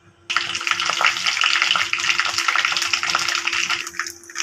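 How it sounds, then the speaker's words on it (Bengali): Garam masala hits hot mustard oil in a wok, setting off a sudden loud sizzle that holds steady for several seconds and then eases slightly. "এ পর্যায়ে কড়াইতে আমি সরিষার তেল ঢেলে দিয়েছি। এবার এর মধ্যে আমি গরম মশলা অ্যাড"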